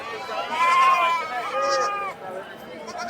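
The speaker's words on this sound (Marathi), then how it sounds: "ही लहान लहान पिल्लं या शेळ्यांची" Young goat kids at the Lonand livestock market bleat loudly and close, several wavering cries overlapping amid the chatter of a crowd.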